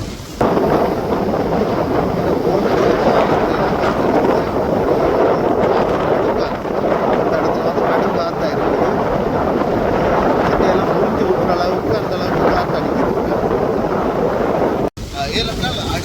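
Strong storm wind and rain on a sea shore where boats are beached, a loud constant roar with buffeting gusts against the microphone, and a voice talking over it.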